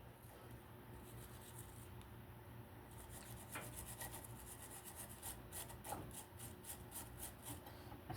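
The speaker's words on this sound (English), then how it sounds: "I like to use these brass brushes from the Hubble Freight." Brass wire brush scrubbing rust off a badly rusted generator flywheel, faint repeated rasping strokes that grow quicker and more rhythmic in the second half over a low steady hum.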